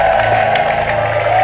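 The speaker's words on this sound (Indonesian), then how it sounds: "Tepuk tangan" Studio audience applause on an Indonesian talent competition show, a steady dense wash of clapping filling the short moment.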